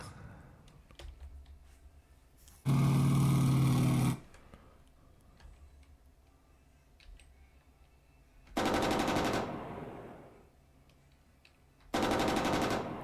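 Machine-gun fire from the tank game Armoured Commander II rings out in three loud, sustained bursts of rapid automatic shots, separated by quieter stretches of faint clicks and background tones.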